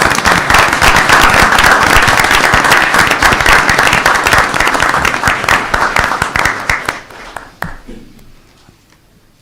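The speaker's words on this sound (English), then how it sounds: "Let's give a round of applause for our first responders." Applause at a city council meeting for first responders: dense, loud clapping from the room that holds steady for about seven seconds, then thins into a few scattered claps before fading out.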